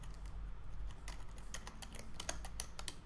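Fast, uneven clicking of keys on a computer keyboard while writing a C program, close and fairly quiet, with no talking over it.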